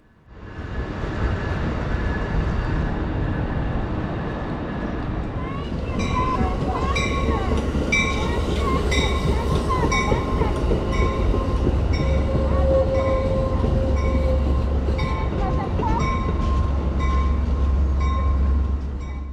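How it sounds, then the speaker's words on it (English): A long Amtrak Coast Starlight passenger train rumbles in close by, its heavy engine drone growing and wheels clattering as it rolls past, with a high squeal and a voice speaking over it. "Here's another one of Amtrak's long-distance trains arriving just now."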